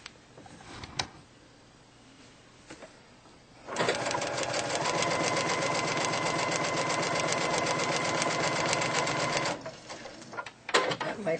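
A sewing machine stitching a quilt snowball block runs for about six seconds in a steady, fast mechanical whir, with softer handling clicks before and after.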